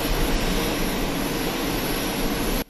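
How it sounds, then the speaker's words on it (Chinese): US executive jet landing at Taipei Songshan Airport, a loud continuous jet engine roar that holds steady and then cuts off sharply at the end. "美国行政专机再度降落台北松山机场"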